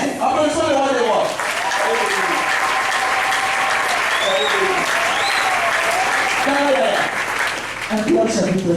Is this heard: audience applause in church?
yes